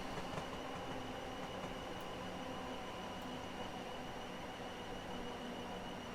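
A BR Class 444 Desiro electric train on the Portsmouth Direct Line eases slowly into a station, giving a steady, continuous rumble of rail and motor noise with a faint whine throughout and no voices.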